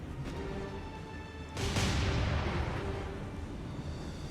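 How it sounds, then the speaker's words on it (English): Explosion in the naval warfare game War on the Sea, a sudden heavy boom that bursts in midway and rumbles down slowly over a steady engine-like drone, loud and close. "It was a explosion, I would say."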